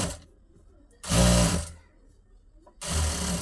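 A sewing machine stitching along the edge of a blouse lining piece, running in two short bursts of rapid mechanical whirring, each about half a second to a second long, separated by a quiet pause.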